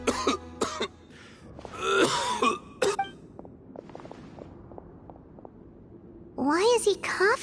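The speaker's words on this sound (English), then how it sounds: "Why is he coughing so much?" A Genshin Impact character coughs and clears his throat in a few short, close bursts, mixed in with bits of spoken dialogue and some quieter ticking sounds between them.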